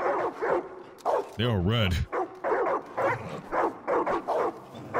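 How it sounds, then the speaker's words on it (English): A dog in the Far Cry New Dawn video game gives one loud, drawn-out bark or yelp in the middle of steady talking between players. "Yeah, we hear dogs."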